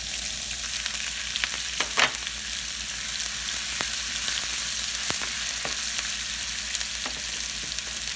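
Green chillies frying in hot oil with mustard seeds and cumin, a loud, steady close-up sizzle with scattered crackles, one sharp pop and faint stirring clicks, with no voices.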